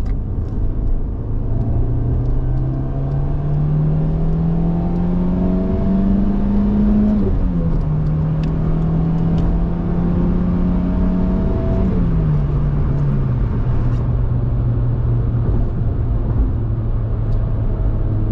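A 2000 Nissan Almera 1.6L petrol engine pulls steadily upward in pitch, accelerating from 50 km/h in second gear through a long pull with one gear shift partway, loud and close throughout with no talking.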